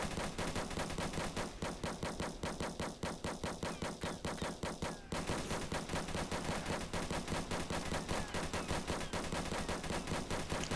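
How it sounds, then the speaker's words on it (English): Tank combat in the online game Armored Patrol, with rapid, continuous machine-gun fire and heavy explosions. The loud rattling bursts run without a break for about ten seconds. "Look at those explosions. Those deal so much damage to the players and stuff."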